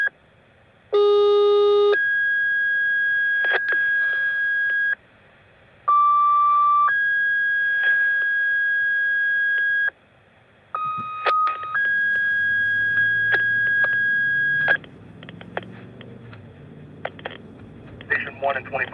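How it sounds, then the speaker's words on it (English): Fire dispatch radio tones sound loud and close over a scanner: a series of sustained two-part paging tones, each held for several seconds with short gaps between them, followed by crackling radio noise. "Now we're going to have to hear 32 tones."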